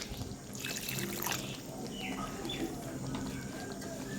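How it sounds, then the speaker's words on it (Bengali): Water is poured into a pot of simmering chicken curry, giving a soft, close trickle and splash with faint bubbling. No voices are heard. "তো আমি হালকা একটু ঝোল রাখবো জন্য একটু জল দিচ্ছি।"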